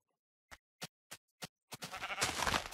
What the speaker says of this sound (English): now I'm killing sheep, because last episode I couldn't find any sheep